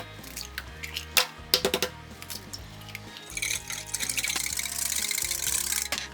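Water pours into a bowl of takoyaki batter ingredients, making a splashing, filling rush in the last couple of seconds, after scattered clinks and handling noises.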